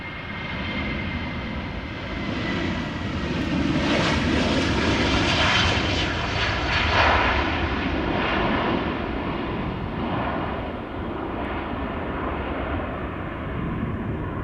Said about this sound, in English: This is KLM flight 1079, Boeing 737-700, going to Manchester, 12 years old